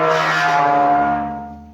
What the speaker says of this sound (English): just listen to this door.